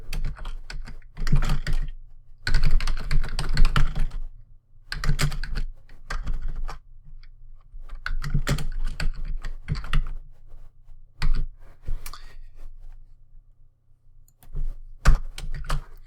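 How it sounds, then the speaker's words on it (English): Typing on a computer keyboard in steady bursts of key clicks separated by short pauses, close and fairly loud, with no one talking over it. "you can type your response to the prompts on the previous page"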